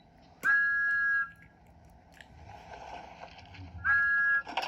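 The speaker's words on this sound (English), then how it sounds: "He blew his whistle very loudly." An animated steam engine sounds its whistle loudly twice, each a bright sustained tone lasting under a second, with quieter rumbling between the blasts.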